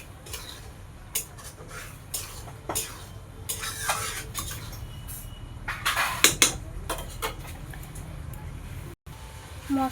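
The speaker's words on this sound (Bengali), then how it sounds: "এটা আমি অনেক কষাবো যতক্ষণ না আলুটা সিদ্ধ হয়ে যায়।" Spice paste and raw potatoes are stir-fried in a pan, heard as intermittent clinks and scrapes of a utensil against the pan over a low background, with faint speech mixed in.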